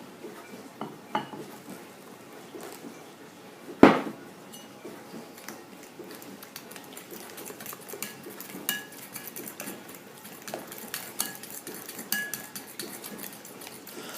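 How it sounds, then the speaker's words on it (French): A utensil stirs hot milk into a brioche dough mixture in a bowl, with soft scraping and light clinks against the dish and one sharp knock near the start; it stays quiet throughout, with no talking. "je vais le retirer du feu et le mélanger doucement à ma préparation"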